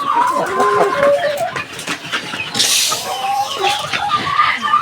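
A flock of egg-laying layer hens clucks and cackles continuously at close range, overlapping calls rising and falling with a brief louder flurry of wing flaps or scuffling midway.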